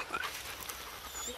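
A dog in a pack of about thirty dogs in the Bois de Boulogne, near and faint with soft panting and whimpers under a person talking.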